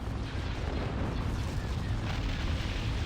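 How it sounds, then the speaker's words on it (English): An ion cannon fires in a Star Wars Rebels space combat video game, a deep rumbling boom that rolls on continuously for a few seconds. "Ion cannon firing."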